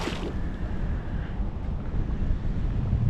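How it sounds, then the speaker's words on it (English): Strong wind gusts batter the microphone outdoors on a lake during a walleye fishing trip, with a broad rushing roar and faint lapping water, brief and close, with no speech. "And it is getting even windier out, which is crazy."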